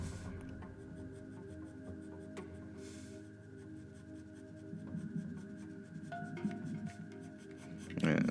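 Pencil drawing lines on paper while sketching a character's face and jawline, close scratchy strokes in repeated short bursts with a few longer sweeps, quiet and steady with no talk.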